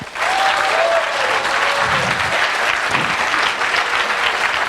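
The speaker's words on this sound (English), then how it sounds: "So let's give them a big round of applause" A crowd at a hackathon opening ceremony breaks into loud, sustained applause for a sponsor, many hands clapping together in a bright, continuous wash; a brief whistle-like tone rises near the start and a few low murmurs sit underneath.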